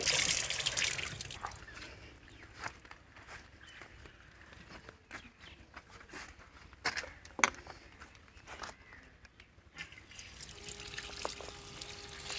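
Hot water splashes, trickles and drips while milking machine parts are washed by hand, with uneven pours, knocks and clatters of the parts coming and going over a quiet background.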